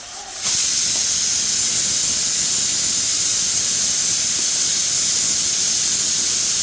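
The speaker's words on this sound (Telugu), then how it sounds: "కడిగి పెట్టుకున్న కీమా అందులో వేస్తున్నానండి" Washed minced mutton keema hits a hot pan with a loud sudden sizzle that settles into a sustained, close, steady hiss of frying, with no voices over it.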